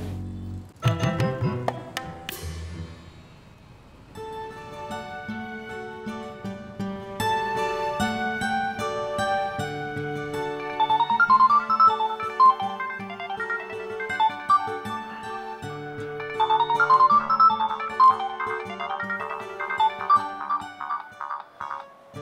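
A musical phone ringtone plays a bright, steady melody on repeating high chiming notes for about twenty seconds, loud and close with no talking over it.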